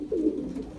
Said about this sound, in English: Like that bird right there